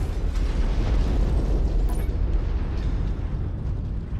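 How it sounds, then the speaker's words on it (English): A heavy cannon blast in the mech combat game MechWarrior 5: Mercenaries, booming low and rumbling for several seconds amid mechanical battle noise, with no talking. "I just heard a cannon go off."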